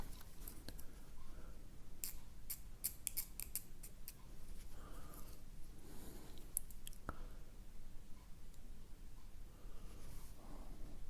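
A hobby knife scrapes mould lines off a Forge World Horus Heresy resin model part around a rivet, giving close, quiet, irregular scratchy strokes and small clicks with no talking.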